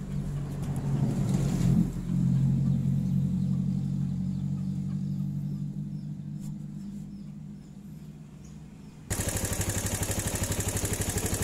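A Suzuki Thunder 125 motorcycle engine runs steadily at idle during a charging-system check, a continuous low mechanical rumble with a brief louder burst near the start and a sharper, buzzier shift in tone toward the end.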